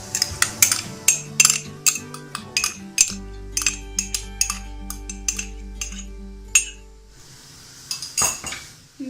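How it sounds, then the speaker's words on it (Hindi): A spoon clinks and scrapes against a metal pan while sugar, vinegar and ketchup are mixed for sweet chili sauce, a close, busy run of metallic chinks and taps with a low ringing hum partway through, then a few final knocks. "इन सारी चीज़ों को ऐड करके मिक्स कर लें अच्छे से"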